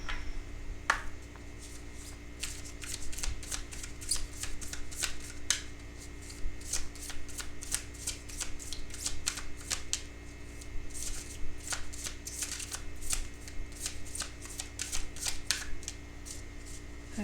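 A deck of tarot cards being shuffled up close, with repeated riffling and flicking bursts and brief slaps of cards, uneven in rhythm and fairly quiet throughout.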